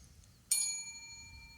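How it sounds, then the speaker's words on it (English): A single bright ding from a small desk bell rung during a podcast recording, with a clear metallic ring that fades slowly in a quiet room. "So, Marina, that's your bell."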